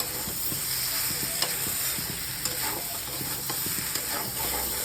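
Rice fries in a pan for veg biryani with a constant close sizzling hiss, broken by repeated scraping and clicking stirs from a utensil.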